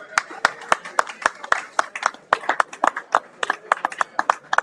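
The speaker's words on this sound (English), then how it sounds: "Let's give the coach another round of applause." A small audience at a Quarterback Club luncheon claps for a head golf coach, with sparse, distinct claps from a modest group. The hand claps land as sharp, uneven bursts over several seconds.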